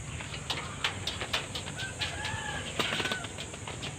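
Young pigeon squabs a week or so old in a backyard loft beneath a mango tree, giving soft, faint calls and brief wing flutters against a quiet outdoor background, with no voices.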